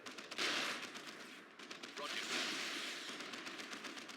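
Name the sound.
gunfire from Leman Russ tank and Sentinel in Dawn of War II video game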